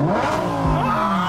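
A 2020 Lamborghini Huracan Evo engine revving up close in sport mode, a loud rising then falling roar with a throaty low rumble lasting about a second.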